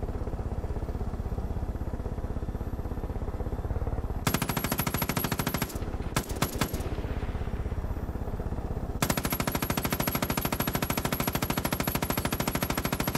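Helicopter-mounted machine gun firing in the video game Far Cry 5, loud rapid bursts of several seconds with a short broken volley in between, over a steady droning engine hum.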